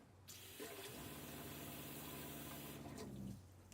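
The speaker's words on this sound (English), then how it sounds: "I'm gonna open the faucet, and the pump will see the drop in pressure," A faucet runs steadily in a camper van while the RV water pump kicks on, a continuous rushing hiss under a low mechanical hum that starts and stops near the ends, fairly quiet and with no talk.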